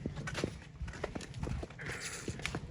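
A white mare's hooves clip-clop as she is led along, irregular walking steps fairly close, with faint background noise and a sharp knock at the end.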